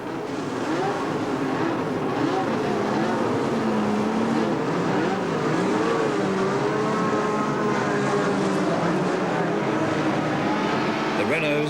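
Turbo Formula 1 engines of the 1982 season, Renaults, Ferraris and Brabhams, roar continuously on the warm-up lap, their pitch wavering and swelling as the cars run, with a voice talking underneath throughout.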